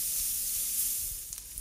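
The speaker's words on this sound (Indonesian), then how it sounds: "Kemudian ini kita aduk dan tumis sampai harum dan agak kecoklatan." Ground chili paste with pepper powder is stir-fried in a pan, giving a close, continuous sizzle with a soft steamy hiss and light stirring.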